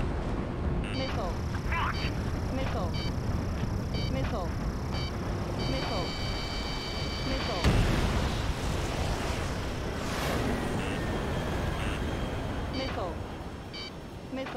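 In Ace Combat 7, a missile launches and explodes amid dense jet-engine roar. A whooshing launch is followed by a sharp, loud blast about halfway through, with voices talking over the din.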